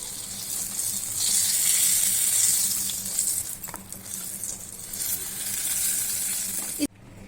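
Brinjal (eggplant) frying in hot oil for curd brinjal, heard as a loud, close, continuous sizzle that swells and eases, with a few faint clinks, and then cuts off abruptly near the end.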